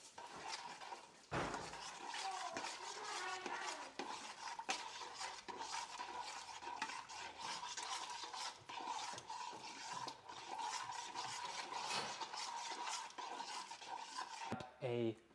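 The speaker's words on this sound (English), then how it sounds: "and now just give it a stir" A spoon stirs rice and peas in a Ninja Foodi pot, with continuous scraping and clinking against the inner pot, close and fairly quiet.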